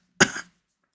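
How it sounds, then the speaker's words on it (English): A single hard, loud cough bursts out in one short, harsh blast of under half a second, then stops, with nothing else around it. "You coughed hard and loudly, and the priest turned to look."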